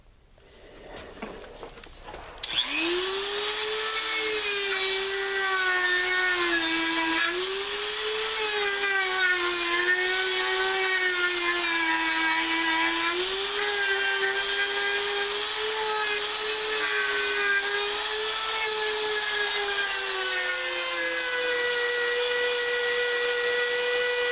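A power sander works the handle of a custom Becker neck knife, running as a continuous, loud whine with slight pitch wavers as pressure shifts, starting after a few seconds of quieter handling.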